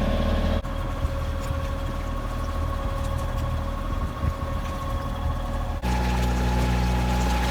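A boat motors through an atoll channel at about seven knots, its engine holding a steady, close drone with a slight shift in tone near the end and no voices.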